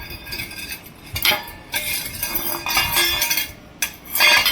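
A metal pot is shaken in bursts, giving clattering, clinking rattles close by that come and go over a few seconds.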